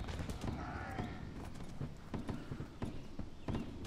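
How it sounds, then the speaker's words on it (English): Rapid hoofbeats of several cavalry horses trotting in the video game Mount&Blade, a steady clattering clip-clop with occasional sharper knocks, fairly close and continuous. "I can hear some cavalry."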